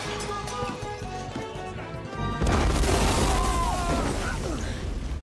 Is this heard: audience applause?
no